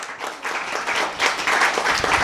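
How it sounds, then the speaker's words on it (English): A lecture audience applauds steadily with dense, continuous clapping that swells slightly toward the end, fairly close and full. "So give yourself a round of applause one more time."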